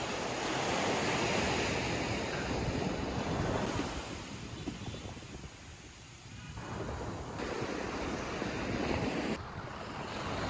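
Sea waves break and wash up on Cox's Bazar beach in a loud, continuous roar, with heavy wind buffeting the microphone and the surf surging and easing over time, with no voices.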